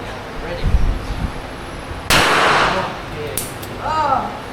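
At an outdoor shooting range in Thailand, a single loud gunshot cracks sharply and rings out amid background chatter, with people talking before and after the blast.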